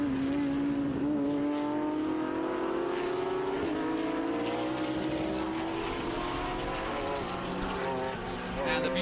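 Vintage race cars scream past at Mid-Ohio during an SVRA event, a loud sustained engine whine that shifts slowly in pitch as cars hold speed, with a crowd-filled outdoor track feel throughout.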